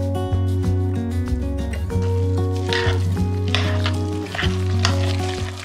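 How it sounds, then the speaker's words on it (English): Broccoli being stirred into Jiffy corn muffin mix batter, giving wet, squishing scrapes that swell in the middle, over a steady low hum. "I'm just gonna start stirring that around before we add in our broccoli."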